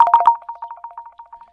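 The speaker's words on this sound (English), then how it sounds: "This is a client phone call." An incoming client call sets a phone ringing: a run of short electronic tone pulses, with the first few loud and dense and the rest repeating more softly at a steady quick rhythm, heard alone without any talk.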